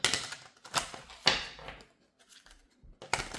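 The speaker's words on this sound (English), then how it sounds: "I'm gonna shuffle this again a few times." Tarot cards are shuffled in quick, crisp riffling bursts with short pauses between, close and alone with no talking.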